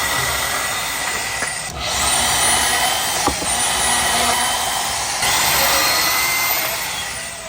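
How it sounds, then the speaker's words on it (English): A power saw whines steadily through 1-inch PVC pipe, with a brief break and a sharp click before the cutting resumes, loud and close. "we're going to cut some pieces of 1-inch PVC to use for our neck and arms"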